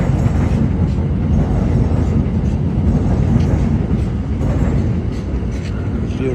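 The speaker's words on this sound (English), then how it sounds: "Here comes the train." A train rolls past at close range, loud and steady throughout, with dense low rumble and clattering wheels on the rails, heard from outside near a building under roof repair.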